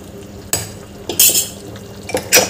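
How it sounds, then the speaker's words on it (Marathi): A metal lid clanks onto a pressure cooker with a few sharp clinks and scrapes of cookware, spaced across a couple of seconds in a quiet kitchen. "झाकण लावून द्यायचं आहे"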